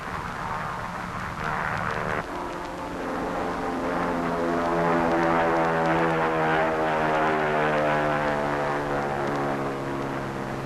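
Propeller engines of a large PBM flying boat drone steadily in flight over the atomic test site, a loud, continuous harmonic hum that thickens after the first couple of seconds and holds for the rest.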